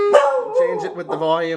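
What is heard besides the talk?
dog howling at the clock radio alarm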